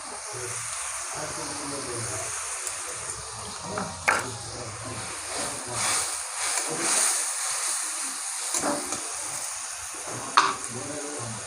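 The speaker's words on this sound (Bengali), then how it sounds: "এটাকে আবার ভালো করে মশলাগুলোকে মিশিয়ে নেবো।" Spices and turmeric being stirred in a pan for a Bengali potato chicken kosha, a continuous soft sizzle broken by irregular scraping and splashy stirring strokes, with occasional sharper clinks.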